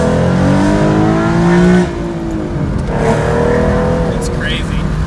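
A Ford Mustang engine revs hard and pulls, its tone rising and falling as it winds up, loud and close, with someone talking over it.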